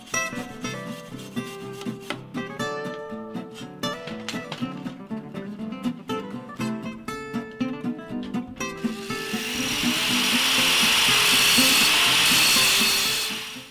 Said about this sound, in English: The grinding took ages